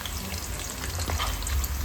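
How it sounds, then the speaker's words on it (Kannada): Sliced onions frying crisp in a pan give off a steady, close sizzle with faint crackle, continuous and unbroken, with no voices. "ಇದನ್ನು ಹಾಕ್ಕೊಂಡು ಕ್ರಿಸ್ಪಿಯಾಗಿ ಫ್ರೈ ಮಾಡ್ಕೋಬೇಕು."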